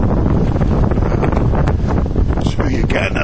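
Strong windstorm gusts roar steadily across the microphone in Edmonton, Alberta in April, a loud, continuous rush of buffeting wind with no break.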